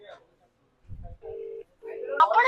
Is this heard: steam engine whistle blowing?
no